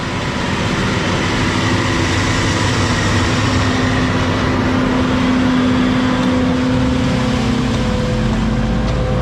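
A forage harvester chops a bean crop in a muddy field, a steady, loud mechanical drone with a constant hum and churning roar, no talking.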